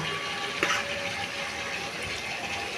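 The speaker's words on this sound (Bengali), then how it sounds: "এবার হচ্ছে এর মধ্যে একটু গরম জল অ্যাড করব।" Hot water poured into a pan of katla fish curry gives a steady, moderately quiet rushing gush over a couple of seconds, with a brief splash early on.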